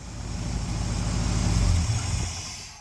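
A 1972 Ford F750 pickup engine idles steadily with a low, even rumble that stays close and constant throughout, easing slightly toward the end.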